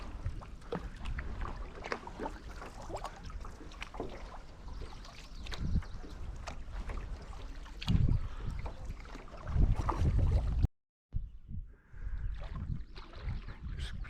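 Canoe paddling on open water with otters nearby: steady low splashing and wind rush run throughout, with a few louder paddle strokes and knocks near the end and a brief cut to near-silence.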